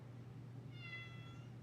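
A cat gives a single faint, drawn-out meow partway through, over a low steady background hum.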